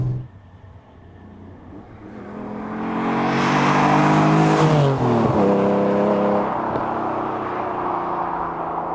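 TVR Cerbera sports car engine revving up hard, the note climbing to a loud roaring peak, then settling into a sustained throaty drone with shifting pitch.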